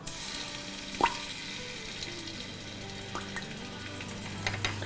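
Ginger and garlic paste sizzles in hot oil in an Instant Pot, a soft steady frying hiss with a few faint clinks and pops.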